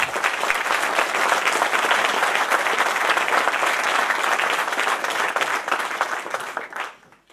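Audience of supporters applauding elected officials at a political gathering, dense sustained clapping from a crowd that holds steady for several seconds, then fades out at the end.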